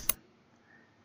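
A single sharp computer mouse click, close and brief, followed by near silence.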